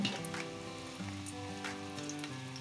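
Onions frying in a cup of oil for a bone curry (haddi salan), with a steady close crackling sizzle and faint background music tones throughout, no talking.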